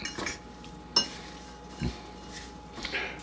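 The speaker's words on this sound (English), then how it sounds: "I usually just use a fork and just stir it up a bit." A fork stirs oatmeal and walnuts in a small prep bowl, making a few sharp, close clinks against the bowl between quieter scraping.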